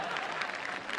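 A comedy show audience claps densely and steadily through the brief moment, a continuous wash of hands without pause.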